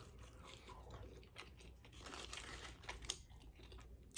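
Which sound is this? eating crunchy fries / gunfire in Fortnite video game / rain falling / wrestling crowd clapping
eating crunchy fries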